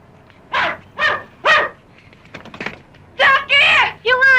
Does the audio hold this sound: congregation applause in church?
no